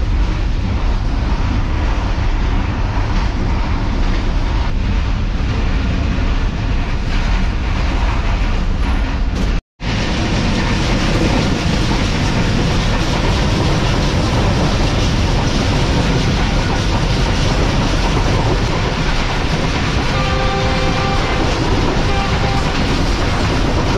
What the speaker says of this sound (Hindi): तो दोस्तों ट्रेन कुछ इस तरह की रफ्तार में आगे बढ़ रही है